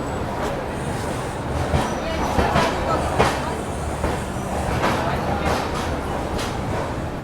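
Steady rumbling and rattling of the crowded Amarnath Express departing Gorakhpur railway station, with faint indistinct voices and crowd noise mixed in throughout.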